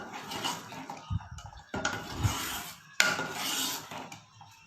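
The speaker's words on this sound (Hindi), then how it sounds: "अभी हम ग्रेवी को बिल्कुल भूनेंगे अच्छे से, ताकि जो मसाले हैं वो उसके अंदर मिक्स हो जाएं।" Gravy with spices being sautéed in a pan, heard as close scraping and stirring of a utensil against the pan in irregular strokes, with a few sharper knocks.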